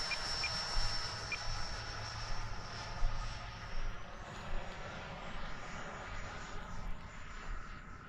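An FMS F-86 model jet flies at about half throttle, its steady, moderately faint whine hanging in the air with a continuous hiss and no break.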